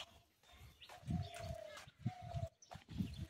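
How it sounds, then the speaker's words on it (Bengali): Several short bird calls outdoors, with a couple of clear whistled notes over low rumbling background noise and occasional soft thumps. "পাখির সাউন্ড"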